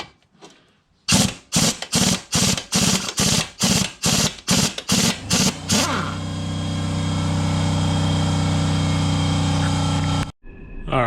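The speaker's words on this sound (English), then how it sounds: "I just went in and shut that off because of the air compressor kicking on" An air compressor kicks on in a garage during axle work on a 2007 Honda Accord. Several sharp mechanical bursts come first, then a steady humming drone settles in and runs for several seconds before cutting off.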